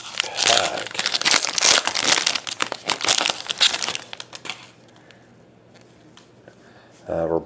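Foil wrapper of a 2012 Topps Tribute baseball card pack crinkling and tearing open, loud and close for several seconds, then quiet with a brief rustle at the end; a voice speaks at points.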